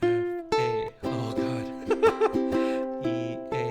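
Ukulele strummed and picked through a simple original tune, bright plucked chords sounding close and clear, changing every half second or so with short melodic flourishes in the middle.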